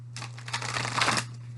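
A single quick shuffle of a tarot deck, a soft papery riffle lasting about a second over a low steady hum, close and quiet.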